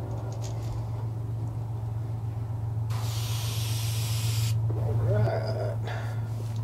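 An airbrush spraying green paint onto a custom citrus shad crankbait fishing lure blank gives a steady close hiss for about a second and a half, over a constant low compressor hum, with a faint voice briefly present.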